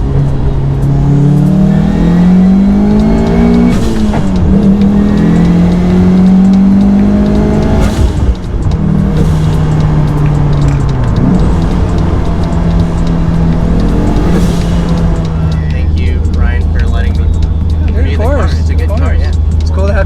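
A built 3SGTE turbocharged Toyota MR2 SW20 pulls hard from inside the car, its loud engine note climbing through the revs with gear changes and a steady drone near the end, while people talk over it.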